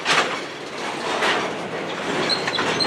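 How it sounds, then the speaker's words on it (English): Freight train Q311 rolls steadily into a siding, a continuous close rumble of cars with faint wheel clatter and squeal running throughout. "still got a lot of train left to go here."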